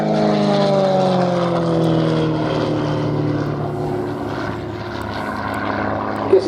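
A Gain Composites aerobatic touring aeroplane flies past at an airshow, its loud propeller engine droning steadily with a falling pitch as it passes close by and recedes, heard alone without talk.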